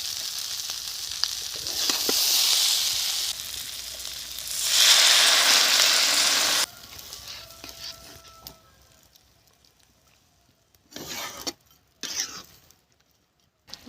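Shutki (dry fish) curry sizzles and bubbles loudly in a pan for about six seconds, then drops to a faint simmer with a few short clattering stirs near the end.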